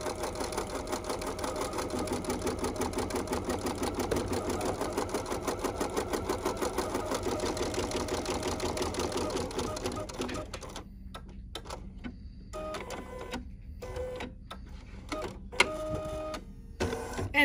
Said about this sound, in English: So I'm just gonna go ahead and do the little basting stitch.